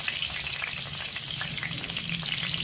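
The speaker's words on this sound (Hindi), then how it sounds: "थोड़ा जलने देंगे फोरन को।" Red chillies, bay leaf, cinnamon, black cardamom and cloves sizzle and crackle steadily in hot oil as the tempering for an egg curry, a continuous close frying hiss with no voices.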